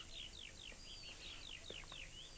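Several short descending chirps and whistles repeat over a steady hiss of outdoor background. Nobody speaks.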